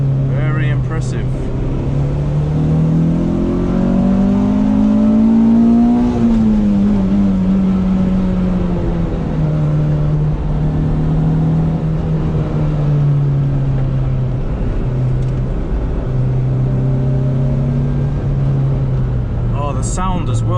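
A Honda Civic Type R EK9 fitted with a Mugen muffler revs loudly and steadily, its engine note climbing and falling as it crosses into VTEC during a drive in Japan.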